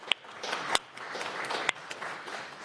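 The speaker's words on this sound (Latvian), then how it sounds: "Ar aplausiem lūdzu." Live audience applauding to welcome an expert at a Latvian panel discussion, a steady spread of clapping with a few sharp louder claps standing out.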